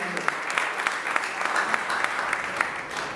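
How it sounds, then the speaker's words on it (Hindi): An audience at a builders' annual general meeting claps steadily, a dense, sustained round of applause with sharp individual claps standing out, heard alone without talk. "एक बार आप लोग फिर से अपने लिए तालियां बजा सकते हैं"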